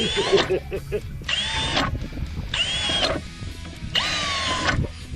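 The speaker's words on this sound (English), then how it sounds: "done drilling all the integrity out of the bottom of the bucket" A power drill whines in four bursts of about a second each, biting into the bottom of a plastic bucket, with background chatter and clatter between.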